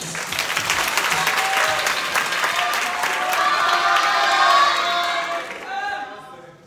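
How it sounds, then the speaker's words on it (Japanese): Loud, sustained audience applause with some cheering fills a student dance showcase stage event, holding steady before tapering near the end. "拍手。"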